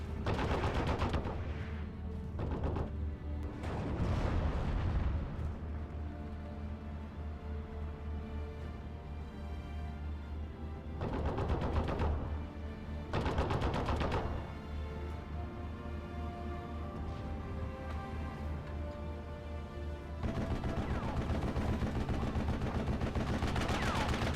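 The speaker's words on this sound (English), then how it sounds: "We got a 50 caliber machine gun. This most likely is the Browning, yes it is." A Browning .50 caliber machine gun fires in long, rapid bursts broken by short pauses in the Steel Division World War II strategy game, loud and close over a continuous battlefield rumble.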